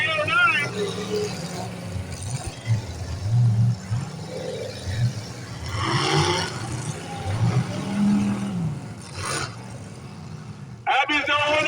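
Demolition derby cars at a 2025 heat in Orland rev hard and roar continuously, one driver flooring the gas pedal, with crunching impacts, all under a race announcer's steady commentary.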